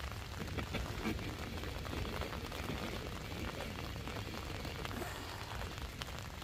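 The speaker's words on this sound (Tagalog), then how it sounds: "Ulan-ulan talaga." Steady rain patters on surfaces nearby at a river or stream, a soft continuous hiss of drops with no pause.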